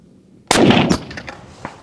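A cheap budget rifle fired at long-range targets outdoors: one loud, close gunshot with a sharp crack and a long rolling echo, followed by a faint distant thump of the impact.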